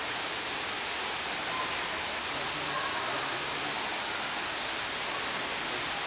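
An indoor waterfall in a shop makes a steady, loud broadband rush of falling water that fills the whole clip without letting up.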